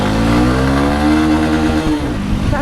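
A Honda Unicorn motorcycle accelerates in first gear, its engine note rising steadily and loudly up close before easing off near the end.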